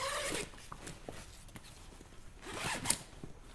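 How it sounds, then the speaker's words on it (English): Zippers on an Eberlestock Skycrane II backpack being undone, several quick rasping pulls close by, with a louder burst near the end and light handling noise between. "I'm going to undo the zippers that hold the little brother pack into the core."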